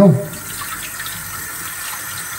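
Tap water runs steadily into a sink while food is washed, a constant close splashing stream with a brief clatter at the start and no talk.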